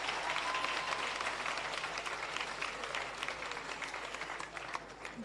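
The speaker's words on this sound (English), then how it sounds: "Give them another round of applause," Sustained audience applause in a large tent at a Jamaican civil service awards ceremony, greeting the vocal group Humble; dense, steady clapping from a big crowd that fades slightly toward the end.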